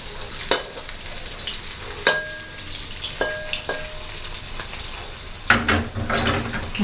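Tofu fries in hot oil for a Thai stir-fry of bean sprouts and minced pork, a steady sizzle broken by sharp clinks of a utensil against the pan and a few louder bursts of spattering.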